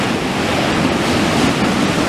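Sea waves breaking on the shore near Blackpool around sunset make a loud, steady, close wash of surf with wind noise over it, and no voices.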